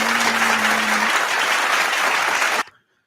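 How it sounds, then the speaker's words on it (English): Short burst of dense applause from an audience, loud and close, holding steady for about two and a half seconds before cutting off abruptly. "I think we have a clap here"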